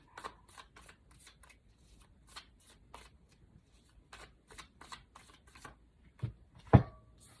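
Tarot cards being shuffled and drawn for a reading, a run of quick soft riffling flicks and slides, with a louder card snap or placement near the end, close and quiet, no talking.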